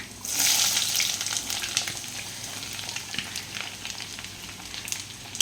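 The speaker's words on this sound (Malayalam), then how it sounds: "അപ്പം നമുക്ക് ചെറിയ ഉള്ളിയും കൂടി ഇട്ട് കൊടുക്കാം" Small onions (shallots) fry in hot oil in a pan for an onion curry, a loud burst of sizzling at first that settles into a softer crackle with light scrapes.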